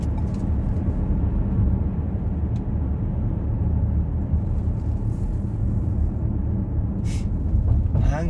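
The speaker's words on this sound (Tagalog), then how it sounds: "Ang haba ng traffic dito sa ilalim ng Cubao Farmers." Road traffic under Cubao Farmers rumbles in a constant, heavy low drone of engines and tyres, with faint passing hisses and a brief air-brake-like burst near the end.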